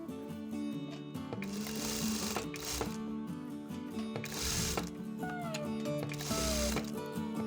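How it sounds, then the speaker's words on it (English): A sewing machine top stitching fabric hums steadily and close, its needle running in a continuous whir with brief pauses and small mechanical changes in pace, no talk over it. "Now we'll do a top stitch."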